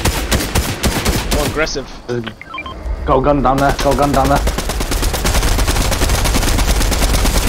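Rapid automatic gunfire from the Fortnite video game, loud bursts of crackling shots with a brief lull in the middle, while players talk over the action.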